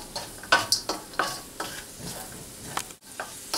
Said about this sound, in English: add the carrots and continue to stir as you see here